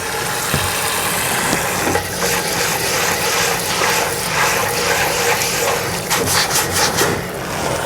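Plastic scrubby working over a cast iron Dutch oven in a deep sink with water, giving a steady wet rubbing and scraping that runs throughout at close range, louder strokes near the end.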